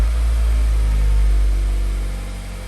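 Mazda CX-5 engine running at idle right after an oil change, a loud steady low rumble with a constant hum, close by and holding level before easing slightly at the end.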